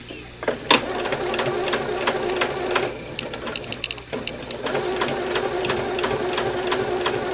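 A sewing machine runs a straight stitch along a beanie hat in loud, rapid mechanical bursts, pausing briefly midway before running on again.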